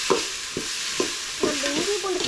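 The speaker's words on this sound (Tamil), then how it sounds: "இஞ்சி பூண்டு பேஸ்ட்டோட பச்சை வாசனை போகிற அளவுக்கு வதக்கி விட்டுருலாம்" Ginger garlic paste sautéing in a pan for Tamil chicken 65 and chicken kuzhambu, with a steady close sizzle broken by several rhythmic scraping stirs.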